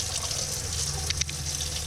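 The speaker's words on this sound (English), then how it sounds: "run some hot water just to get the hot water out of the water heater" Hot water runs from a tap fed by an RV water heater, a steady close gush of flowing liquid with low hum underneath and a couple of brief splashy bursts.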